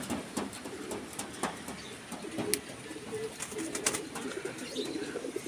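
Racing pigeons coo repeatedly in a loft, mixed with sharp clicks and taps of birds landing and shuffling, moderately close and fairly quiet throughout.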